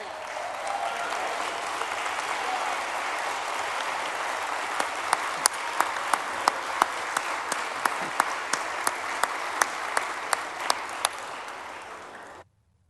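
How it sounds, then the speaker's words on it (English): Members in the Texas House chamber applaud for the reading clerk, a sustained, even wash of many hands that carries on for around twelve seconds before stopping abruptly, with some sharper individual claps standing out in the second half. "can we get a round of applause for the reading clerk?"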